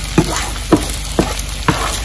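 Egg and rice frying in a non-stick pan, a loud close sizzle broken by four evenly spaced spoon scrapes and taps, no talking.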